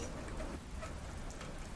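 Steady rain falls throughout a nighttime scene on a deserted, muddy road, a constant broadband patter with no pauses, no voices and no other sounds over it.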